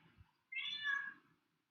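A single drawn-out meow from a female cat indoors, moderately loud and close, lasting under a second after a brief quiet gap, with a faint low murmur beneath.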